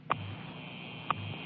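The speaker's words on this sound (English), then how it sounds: "This is the sound of the time and frequency station WWVH transmitting from Hawaii." The WWVH time and frequency station in Hawaii comes in over shortwave radio. Two short, clean tone ticks fall exactly one second apart over a steady bed of low hum and faint static hiss.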